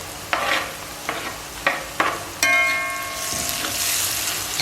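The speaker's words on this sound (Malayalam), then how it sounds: "നന്നായിട്ട് ഒന്ന് മുരിഞ്ഞോട്ടെ." Onion, ginger, garlic and green chillies frying in a pan: several quick spatula scrapes and knocks, then a rising, steady sizzle close by.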